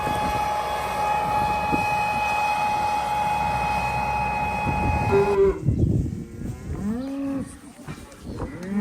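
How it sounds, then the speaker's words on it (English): Cattle moo repeatedly and loudly at close range in a shed while cows and calves are sorted, drawn-out bellows rising over a steady low mechanical hum. "Right now we're sorting the cows and calves."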